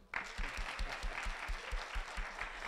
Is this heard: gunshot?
no